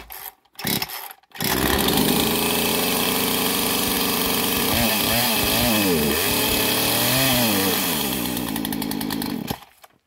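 A repaired chainsaw, after a couple of short pull-start bursts, fires up and runs steadily at a loud, close roar, with the engine pitch rising and falling through a few revs before it cuts off.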